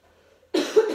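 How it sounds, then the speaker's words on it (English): A single short cough in a Pilates class, sudden and close after near silence, with a second burst of breathy noise trailing just after. "Little cough."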